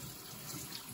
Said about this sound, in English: That's Savannah washing her hands.